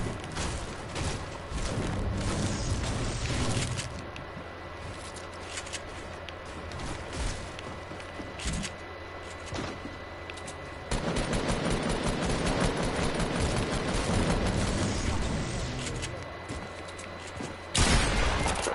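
Dense video game shootout gunfire, sustained rattling bursts and booms filling the whole stretch, loud and continuous with a heavier surge midway and a sharp blast near the end.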